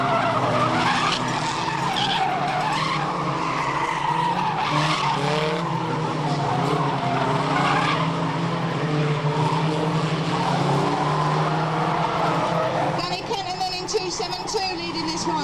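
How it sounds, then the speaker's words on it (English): Race cars at a raceway circuit produce a continuous snarl of engines layered with screeching, skidding tire squeals, sustained and loud throughout, with a sharper burst of squealing near the end. "It's been a while since Jane's driven this raceway"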